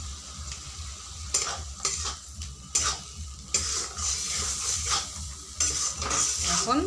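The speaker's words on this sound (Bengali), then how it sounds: "এখন মশলাগুলোকে ভালো করে কষাতে হবে।" Spices with turmeric and salt being stirred and sautéed in a pan for an egg curry, with repeated scraping strokes of a spoon over a low, steady sizzle, close by and without talk.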